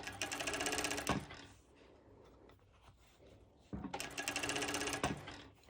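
A cover stitch machine runs in two fast, steady stitching bursts on mesh fabric, each about a second or more long, with quiet fabric handling and soft clicks in the pause between.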